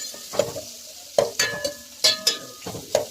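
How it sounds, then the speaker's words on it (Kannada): Turmeric-coated bitter gourd pieces frying in a little oil, heard as a steady soft sizzle broken by several sharp clatters as the pieces are stirred and tossed in the pan, with no voices. "ಈಗ ಫ್ರೈ ಮಾಡೋದು, ಸ್ವಲ್ಪ ಎಣ್ಣೆಲಿ 5-10 ನಿಮಿಷ ಫ್ರೈ ಆಗಬೇಕಿದು"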